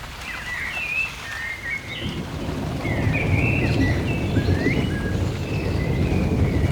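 Steady rain falls as storms roll in over the countryside, with a continuous wash of patter and low rumbling, while birds chirp and call over the top.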